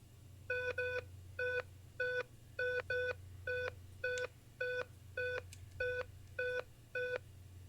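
Alert tone from a phone set off by a Pebble smartwatch's Find Phone app: a steady run of short paired electronic beeps at an even pace, moderately loud over a low background hum, with no talking.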